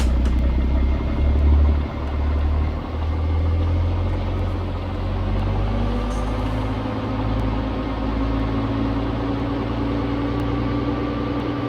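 A Kenworth W900 truck with a Cummins Big Cam engine pulls out in American Truck Simulator, a steady low diesel rumble with a brief rise near the start, heard alone without talk.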